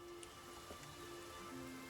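Rain falls steadily in the video game Infinity Nikki, a soft continuous patter of drops spread evenly across the clip with no voices over it.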